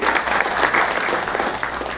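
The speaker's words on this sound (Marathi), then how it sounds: "त्यामुळे सगळ्यांनी जोरात टाळ्या वाजवा त्याच्यासाठी." An audience at an award ceremony in Solapur claps loudly and steadily, a dense, continuous burst of applause filling the whole moment.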